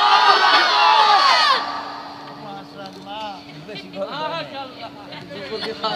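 Large outdoor crowd at a religious gathering (mahfil) in Gafargaon, Mymensingh, roaring a loud collective takbir chant in unison, a dense burst of shouting that fades after about a second and a half into scattered voices and murmuring.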